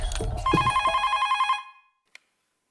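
A home telephone bell rings loud and close in a steady rapid trill for about a second and a half, then stops, followed by a single small click.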